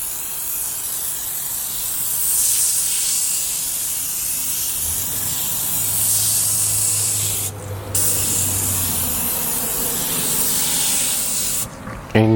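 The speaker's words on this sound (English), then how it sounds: "about 6 to 8 inches away from the tire. Nice uniform spray." Meguiar's aerosol tire shine sprayed onto a tire from 6 to 8 inches away, a steady close hiss lasting most of the clip with a brief break near the end.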